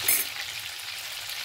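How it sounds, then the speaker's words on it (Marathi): Vegetables being tempered in butter and a little oil sizzle steadily in a pan, a close, constant hissing fry with a brief louder spatter at the start. "चला तर आपण आता भाजीला फोडणी देऊया। त्याच्यामध्ये बटर टाकलेलं आहे आणि थोडंसं तेल टाकलेलं आहे।"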